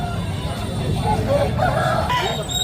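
A rooster crows at a busy Sunday rooster market in Nellore, its call rising midway through a dense bed of crowd chatter and market noise.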